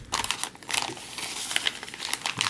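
Plastic MRE heater bag being folded over, giving a continuous close crinkling and rustling with sharp crackles throughout, no voices.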